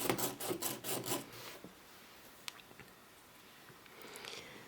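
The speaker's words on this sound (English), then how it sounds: "Just going to sharpen this." A colored pencil being sharpened, with a run of rapid rasping scrapes at close range that stops abruptly, followed by a few faint clicks and light handling sounds.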